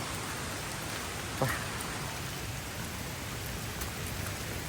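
Steady rain falls in an even, dense hiss, with one brief louder knock partway through.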